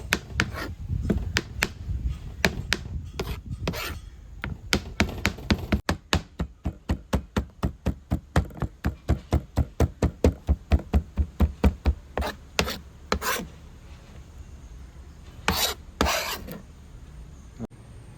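A knife chops raw chicken finely on a board, dozens of quick close strikes in a steady rhythm that stops and starts.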